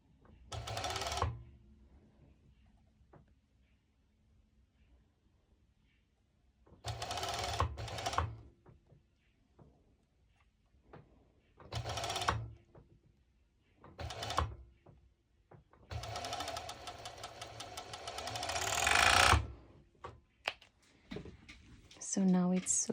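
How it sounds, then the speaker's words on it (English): Serger overlocking the seams of activewear shorts, run slowly in several separate bursts of close, steady mechanical whirring with quiet pauses between them. "place it under the foot on my serger like this, and I'm going actually quite slow because I want to match my seams together."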